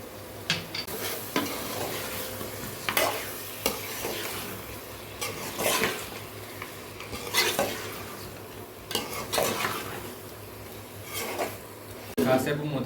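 Chicken for gongura chicken fries in a pan with chili powder, coriander powder, cumin powder and garam masala, stirred in intermittent scraping strokes over a continuous sizzle, with utensil clinks and a voice faintly present at times.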